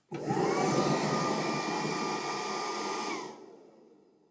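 Small electric fan in a self-sealing smart trash can whirring steadily for about three seconds to blow the bag open, a strong close airy blow with a faint tonal hum, then spinning down and stopping.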